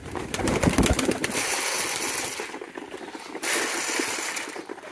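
Pigeons being fed wheat coo close by, their low calls mixed with wing flutters and scuffling, busiest at the start and then settling into a steadier murmur.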